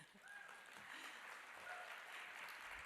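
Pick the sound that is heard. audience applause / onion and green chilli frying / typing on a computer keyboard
audience applause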